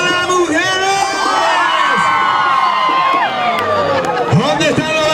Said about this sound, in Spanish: Un grito a las mujeres.